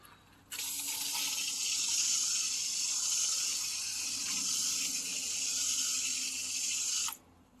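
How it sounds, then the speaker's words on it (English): A steady stream of water pours onto freshly transplanted tomato plants for about six seconds, close and continuous, then cuts off abruptly. "Okay, so now I'm going to water these in."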